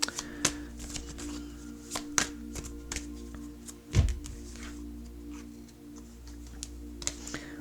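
Tarot cards are handled and shuffled close by: soft papery snaps, slides and light taps in an irregular rhythm, fairly faint and with no talk.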